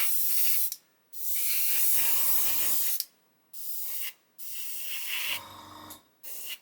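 Aerosol can spraying matte coat onto a 1/35 Border Model Ju87 G1/2 Stuka kit, in several close, loud hissing bursts of uneven length separated by short silences and faint can rattles.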